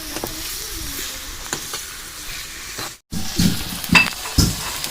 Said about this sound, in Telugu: పోపులు దినుసులు అన్నీ వేసుకొని ఇలాగ తాలింపు పెట్టుకోవాలి